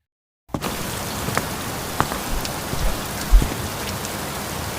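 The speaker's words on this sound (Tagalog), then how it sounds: "Naliligo kami sa ulan." Steady animated rain pouring down, a dense continuous hiss of drops with a few sharper splashes, starting abruptly after a short silence and holding at even loudness.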